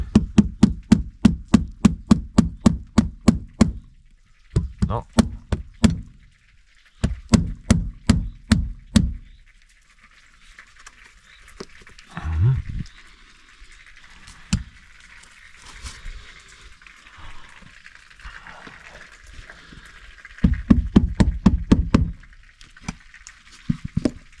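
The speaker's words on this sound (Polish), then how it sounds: "teraz stuk puku. Trzeba cię dobić." Hammering on a windowsill during a renovation that fits sills beside roller blinds and venetian blinds, heard as rapid, loud bursts of repeated knocks separated by pauses, with quieter handling and scraping noises in between.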